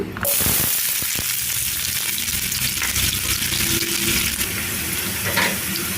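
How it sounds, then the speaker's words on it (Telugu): Thinly sliced onions hit hot oil and fry with a loud, steady sizzle, broken by a few early clatters and stirring scrapes, close up with no talking. "నూనె వేడెక్కిందండి ఇప్పుడు దీంట్లో సన్నగా కట్ చేసిన ఉల్లిపాయ ముక్కలు వేసుకుంటున్నాను"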